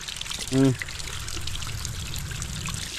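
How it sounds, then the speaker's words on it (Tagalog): Running water pours steadily outdoors, a constant rushing trickle heard throughout. Someone speaks briefly over it near the start. "Yan po yung running water."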